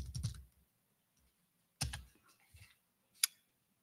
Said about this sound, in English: Having trouble typing my own website in.